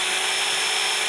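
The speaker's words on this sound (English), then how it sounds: "it's just easier to do it here right now with a hand drill" A handheld drill with a small bit bores a pilot hole while making a holiday ornament, giving a steady, close, bright whirring hiss with no pauses.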